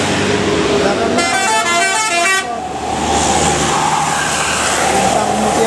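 An intercity Bintang Mutiara bus passes on a roadway, sounding a loud multi-tone horn in a sustained blast of about a second amid steady traffic rumble, with a voice talking over the scene.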